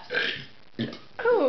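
A person burps several times in quick succession, close to the microphone: a long croaky belch, a shorter one, then a final rising voiced burp.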